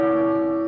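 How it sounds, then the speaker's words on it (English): Bells of the Loggia Tower in Dubrovnik ringing a single sustained, clear tone with strong humming overtones, close and loud, over a brief moment with no voices. "the bells of the Loggia Tower chime to streets all but deserted"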